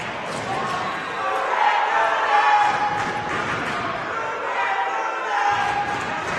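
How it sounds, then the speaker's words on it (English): Crowd chanting and cheering fill a high school boys basketball game between Ellenville and Tri-Valley, a steady, loud mass of voices in a gym with no clear break. "the crowd chants, "You can't do that.""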